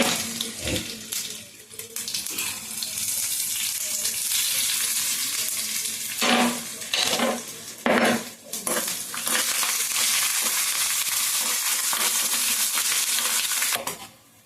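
Dry red chillies hit hot oil in a tempering with cumin, chana dal, urad dal and mustard seeds for a ground gongura chutney, giving a steady close sizzle broken by a few sharp crackles and stirring knocks.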